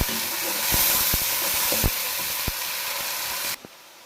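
Onions frying in a karahi for chicken karahi, cooked until lightly browned, give a steady close sizzling hiss with a few sharp crackles and pops, cutting off abruptly near the end.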